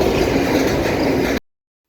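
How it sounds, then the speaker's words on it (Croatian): Transagent Rail locomotive 18253 hauling a 19-wagon container train through Slavonski Brod station, a dense steady rumble of rolling wagons heard close for over a second before it cuts off abruptly. "Transagent Rail 18253 sa kontejnerskim vlakom tranzitira kroz željeznički kolodvor Slavonski Brod."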